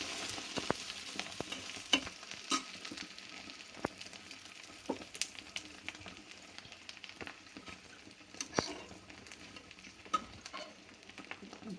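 A foam egg seasoned with pepper powder and coriander fries in a pan, giving a steady, faint sizzle with scattered clicks and light scraping ticks throughout.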